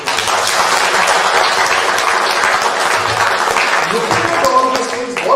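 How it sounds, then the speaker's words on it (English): Loud, dense audience applause fills a conference hall continuously, with a voice beginning to speak over it near the end. "I think a round of applause for my institute"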